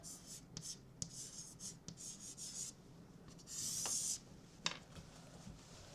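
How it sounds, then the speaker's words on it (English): Marker scratching and rubbing across a board in a few short strokes, quiet and close, with one longer squeaky stroke and faint room noise between. "I'm just going to write"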